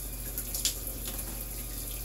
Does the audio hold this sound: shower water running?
yes